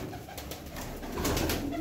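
A tumbler pigeon coos in soft, repeated low calls close by, over a steady background hum, with no speech.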